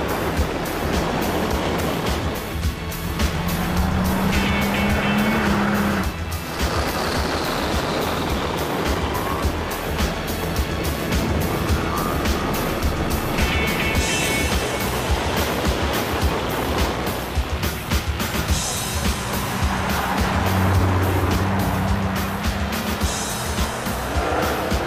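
AMG car in the Gran Turismo 5 video game, with the rear end breaking loose, drives through a loud continuous engine roar that rises and falls with gear changes, along with hints of tire noise.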